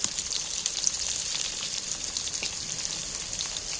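Potatoes with a pinch of salt and turmeric frying in hot mutton fat oil for a jackfruit curry, a steady dense sizzle and crackle running evenly throughout, close and moderately loud, with no talking.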